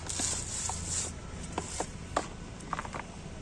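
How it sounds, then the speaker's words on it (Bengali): Soil being pressed and dropped around the base of marigold plants, giving soft scattered crumbly thuds and scrapes, close and fairly quiet, with no talking. "আমি এবার দেখুন মাটিগুলো দিয়ে দিচ্ছি এক এক করে গাছের গোড়ায় সুন্দর করে"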